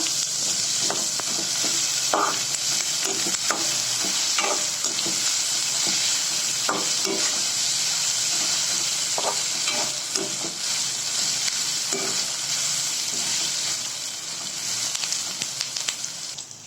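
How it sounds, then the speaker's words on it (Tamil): Green chilies and curry leaves sautéing in a pan for raw mango rice, a continuous loud sizzle with repeated stirring scrapes, close up with no voices. "இதுல கட் பண்ணி வச்ச பச்சை மிளகாயும் சேர்த்துக்கோங்க. கருவேப்பிலையும் சேர்த்துக்கோங்க. இதை நல்லா எல்லாத்தையும் நல்லா வதக்கிக்கோங்க."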